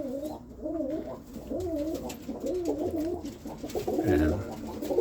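Roller pigeons, including red check and ash blue birds, cooing in a loft with repeated rolling, wavering coos in a steady rhythm, fairly close and clear, with a louder burst near the end.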